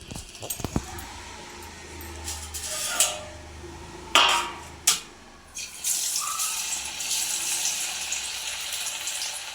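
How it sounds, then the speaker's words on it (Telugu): Mettalu dropped into hot oil, with a few sharp clinks and splashes, then a loud, steady sizzle of frying that continues to the end. "మెత్తలు ఫ్రై చేస్తున్నాను"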